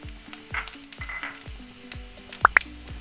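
Coconut pieces fry in a pan for Kerala puliyinchi curry, with steady sizzling and popping and a few sharp crackles near the end, alongside soft repeated tapping and scraping from stirring.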